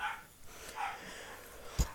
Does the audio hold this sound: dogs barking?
yes